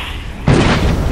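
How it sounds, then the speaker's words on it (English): A barrel explodes in the video game Shadow of Mordor, arriving as a single loud, sudden boom that cuts in midway through a quieter stretch and then decays into a sustained rumbling wash. "With barrel explosions, don't get hit"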